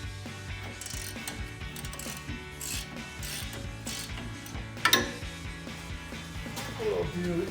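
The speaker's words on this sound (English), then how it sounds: "So I'll go ahead and finish taking this casting nut off." A hand ratchet clicks in quick repeated strokes, loosening a castle nut on the front upper control arm of a Toyota Tacoma. The close, rhythmic pawl ticking is broken by a sharp metallic clank near the end.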